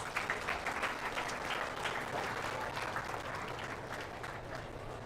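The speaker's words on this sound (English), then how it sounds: "let's give all these exhibitors a nice round of applause" Crowd applause for exhibitors at a 2025 county fair sheep and goat show, a steady wash of many hands clapping in a large space, moderately loud and continuous.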